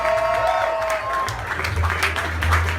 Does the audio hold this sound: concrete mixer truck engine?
no